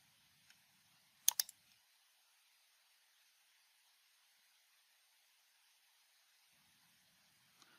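A computer mouse clicks while making selections in RFEM 6 structural engineering software: a quick pair of crisp clicks sounds early, with a few fainter isolated ticks in otherwise near silence.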